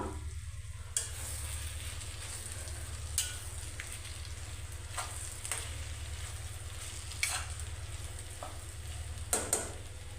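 Gongura pulihora rice is stirred and tossed in an oiled pan over a low, constant hum and a faint steady sizzle, with a spatula scraping and clicking against the pan every second or two.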